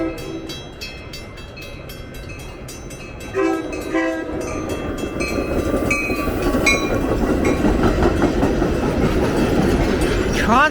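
A METRA commuter train passes through Midlothian, sounding a loud multi-tone horn in repeated blasts before the rumble and rhythmic clatter of wheels on rails swell and stay close, with a brief metallic squeal at the end.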